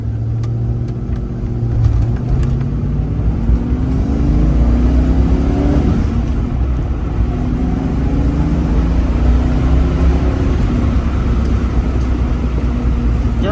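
A 1987 Ford Mustang GT cruising down the road, its steady engine hum and road noise continuous and fairly loud throughout, with a couple of mild revving swells and no voices.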